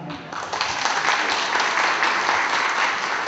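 Audience applause at a Thai local-government forum, a dense, steady burst of many hands clapping that stays loud and even throughout, with a voice briefly heard at the very start.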